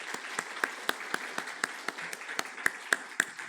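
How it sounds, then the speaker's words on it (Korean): A church congregation applauds during a Sunday worship service, a sparse cluster of distinct claps at a moderate distance, rhythmic and somewhat uneven, with no voices over it. "우리 하나님께 영광의 박수 올려드리도록 하겠습니다."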